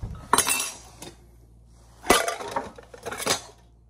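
A spoon tossed into a small lightweight backpacking cook pot, giving two or three bright metallic clatters and rattles at close range, with short quiet gaps between them.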